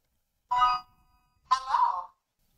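An AOSU video doorbell rings its two-tone electronic chime twice through a WiFi home base, a short bright tone followed by a longer lower one, clear and close with silence around it.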